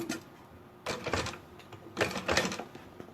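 A sewing machine stitches bias binding onto a sublimation-printed bag, running in two short rhythmic bursts separated by brief pauses, close and moderately loud.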